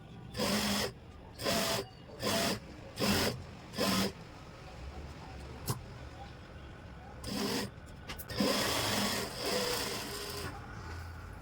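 Sewing machine running in five short bursts, then a couple of longer runs, as a belt strip is stitched along the edge onto a pair of pants; close and moderately loud with handling noise between bursts.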